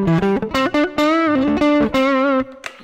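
Grote GT-150 thinline Telecaster electric guitar played through a budget AC-style tone pedal, sounding as bright, ringing chords and short picked phrases with a slight overdriven edge, loud and up close with no talking.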